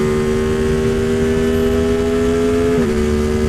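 Race car engine at full throttle, a loud steady high-pitched drone holding close and constant, with a brief dip near the end as a gear shift or lift briefly interrupts it.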